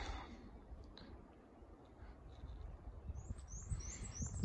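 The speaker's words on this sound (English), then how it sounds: "Birds been chirping all day." Faint high bird chirps come in short bursts, mostly toward the end, over a low rumbling outdoor background on an Appalachian Trail slope overlooking green fields and pastures.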